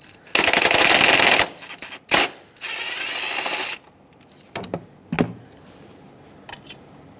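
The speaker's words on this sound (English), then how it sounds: "Use a 7mm socket and remove the bolt that holds this on." A ratchet with a 7mm socket works a bolt off the ignition coil of a 2008-2010 Ford F-250, giving bursts of rapid, close metallic clicking separated by short pauses.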